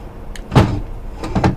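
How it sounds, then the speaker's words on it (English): Power window motor inside a Cadillac Coupe DeVille door, a short close mechanical whir with a couple of bumps and clunks as the glass moves, no talking. "One working power window."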